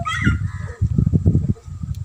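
A one-year-old Aseel rooster weighing about 3.5 kilograms calls at close range, a loud rasping honk-like vocalization pulsing in short bursts, briefly breaking off and then resuming, with no talk over it.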